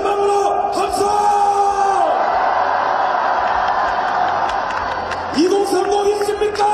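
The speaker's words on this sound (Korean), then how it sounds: "여기 10대 있으면 전망으로 함성!" A large crowd at an outdoor political rally in Korea lets out a sustained roaring shout, loud and continuous for several seconds and tapering off, with an amplified voice heard at the edges.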